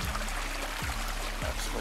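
Mountain spring water flowing and pouring near an old coconut tree on a hillside, a continuous close splashing trickle with a few low thumps at regular intervals.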